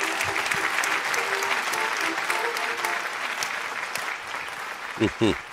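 An audience at a pop singing contest claps steadily and warmly for several seconds, a dense patter of many hands that thins near the end as a few louder, nearby sounds cut in.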